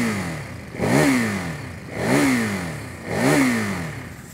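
A 2023 Ducati Monster SP with a Termignoni exhaust, revved in first gear with the clutch pulled in: three loud, rising throttle blips about a second apart, each dropping back to a rough idle.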